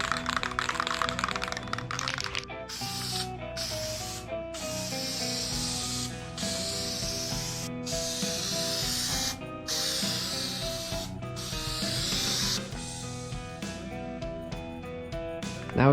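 Spray adhesive hisses in long steady bursts onto the fiberglass headliner of a Jeep Cherokee XJ, broken by several short pauses over a tonal musical bed, with no talk.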